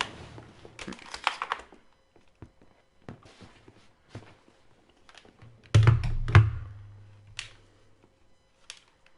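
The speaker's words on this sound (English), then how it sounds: "Trusty keyboard." Clattering keystrokes on a computer keyboard come in quick bursts with pauses between, close and fairly quiet, with a heavier thump or two partway through.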